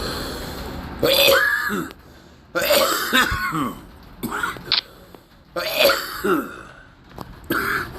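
A man coughs and clears his throat in several harsh bursts spread across a few seconds, close and loud, with short quiet gaps between the fits.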